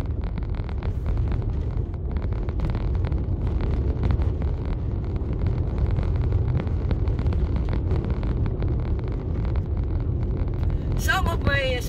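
A car drives along a rough dirt road near Highland, Arkansas, with a steady low rumble and rattle plus wind buffeting throughout, and a brief burst of singing near the end.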